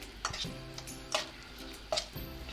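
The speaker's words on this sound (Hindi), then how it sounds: "अब मैं इसको जनाब अच्छी तरीके से मिक्स कर लूँगा" Minced chicken mixed with red chilli and cumin for kofta is worked by hand in a bowl, giving soft squelching stirs broken by a few sharp clinks against the dish, close and fairly quiet with no talking.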